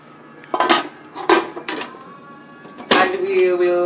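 Metal clanks and clatters as a lid is handled and set onto a pot of Jamaican rice and peas, three separate bright knocks followed by a ringing settle.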